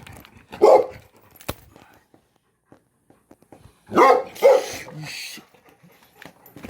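A dog barks at night, two short bursts of barking separated by quiet, with a person's voice nearby and low background sounds.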